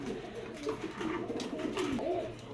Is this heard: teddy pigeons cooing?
yes